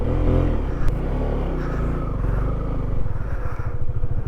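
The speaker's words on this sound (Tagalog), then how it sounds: "Mabigat yung motor natin. Sana kayanin pa natin." Honda CB150X motorcycle engine labouring up a steep mountain trail, a steady close rumble that rises and roughens into a pulsing strain near the end.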